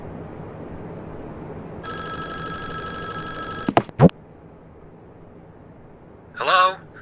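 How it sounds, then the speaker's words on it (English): A digital telephone ring in a Five Nights at Wario's video game sounds in a steady burst, followed by a couple of sharp electronic clicks and a short distorted voice burst. "Oh, the phone's ringing again."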